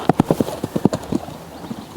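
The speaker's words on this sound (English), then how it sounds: "So a really nice start for the young horse, coming out of the start box in a nice steady rhythm" A young horse canters out of the start box on a cross-country training course, its hoofbeats a close, steady three-beat rhythm of dull thuds on turf.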